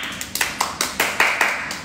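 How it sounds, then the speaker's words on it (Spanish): Hands clap in an even, rhythmic series of about nine sharp claps, close and fairly loud, as an audience greets the start of a circus show. "El público responde con un fuerte aplauso."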